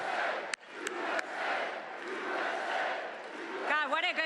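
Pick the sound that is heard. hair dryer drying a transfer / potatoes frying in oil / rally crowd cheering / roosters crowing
rally crowd cheering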